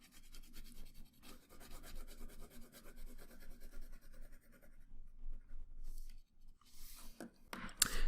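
Pencil shading darkens a drawn character's hair on paper, a steady soft scratching and rubbing of graphite strokes, close and continuous, with brief louder scrapes near the end.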